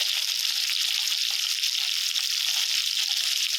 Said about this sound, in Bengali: আর এই যে মাছটা ভাজা হচ্ছে